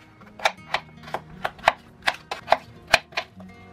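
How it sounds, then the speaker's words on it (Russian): A knife cutting potatoes into medium pieces on a board, about a dozen crisp, close chops in an irregular rhythm, each a short sharp knock. "1/2 кг картофеля режу средними кусочками."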